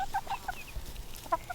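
Young pullet chickens softly cluck in a few quick bursts at moderate distance, with short gaps of quiet in between and no talking.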